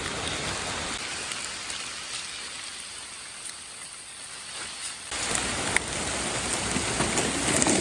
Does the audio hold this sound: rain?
yes